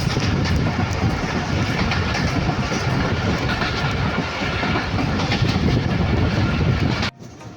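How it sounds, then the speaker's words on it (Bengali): The Dhalarchar Express rushes at high speed between Pabna and Rajshahi, with a dense, continuous rumble and rapid wheel clatter. It ends with a sudden drop. "অনেক তুমুল গতিতে চলছে আমাদের সেই ঢালাচর এক্সপ্রেস অনেক হাই স্পিডে চলছে"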